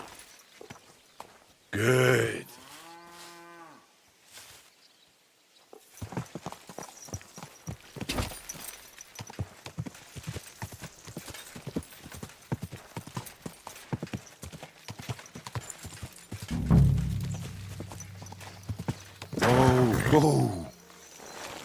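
A horse's hooves clip-clop in rhythmic, close steps in the Kingdom Come Deliverance 2 video game, with short snorts and grunts from the horse and brief spoken lines scattered between.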